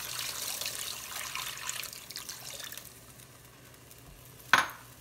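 Water poured into a pot of thickening homemade mac and cheese sauce, a steady splashing pour for about three seconds that fades, then one sharp clink near the end.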